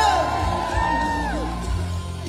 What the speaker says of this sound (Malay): Berikan tepukan yang gemuruh untuk Datuk Saja.